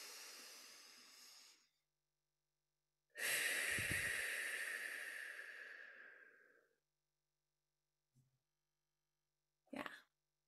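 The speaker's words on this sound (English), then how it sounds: "Deep breath in." Slow deep breathing during a guided mindfulness session: a long exhale through pursed lips, a pause, then a longer airy breath that fades out, with a brief sniff and a short breath at the end.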